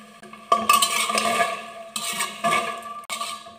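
A ladle scrapes and clatters around inside a metal pressure cooker while stirring rajma (kidney bean curry) in a few bursts, with a faint sizzling underneath.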